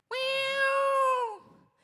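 A single drawn-out, tonal cat meow, close and loud, rising at the start and trailing off after over a second, with no talk over it.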